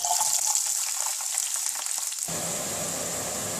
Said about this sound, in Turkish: Sırada biber ve sarımsak yağımızı atıyoruz.